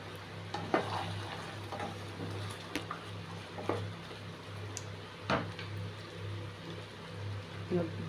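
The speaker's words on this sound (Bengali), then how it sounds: "এবার আবার একটু নেড়ে নেবো। দেখো কি ভালো করে ফুটছে।" A paneer curry bubbling in a pot on a gas stove while a spoon stirs it, with a low simmering hiss, scattered clinks and scrapes against the pan, and faint background noise.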